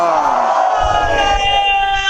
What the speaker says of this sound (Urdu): ابھی جو لگے گا نعرے حیدر اس مجلس میں، کوئی بولے یا نہ بولے علی کا چاہنے والا ضرور بولے گا